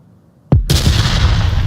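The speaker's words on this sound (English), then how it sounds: "Grenade is coming out as expected." Frag grenade exploding in the VR shooter Onward during a competitive match: one sharp, loud close blast after a brief click, followed by a sustained rumbling roar and debris noise.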